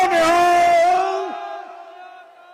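A crowd of Sikh men roars a jaikara response at a remembrance prayer gathering in Bargari, one loud sustained collective shout that holds, then gradually fades over a couple of seconds.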